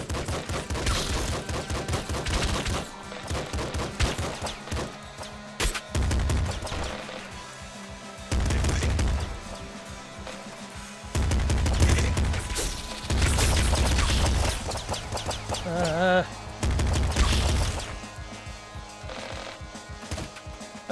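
A machine gun in the game Nuclear Throne fires in repeated bursts of rapid, loud shots, separated by brief quieter gaps of other game noise.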